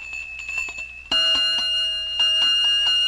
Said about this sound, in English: Then I rang my bell